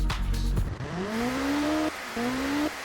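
A small, high-strung 1.8 liter turbocharged four-cylinder engine in a video game revs hard, its pitch climbing in two long sweeps with a brief lift between them, loud and close.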